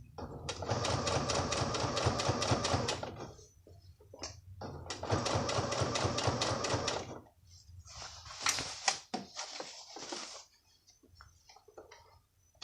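A sewing machine with a lengthened stitch runs over several thick layers, stitching in the ditch of a waistband. Two long, steady bursts of rapid stitching are separated by a pause, followed by softer handling noises and brief shorter runs.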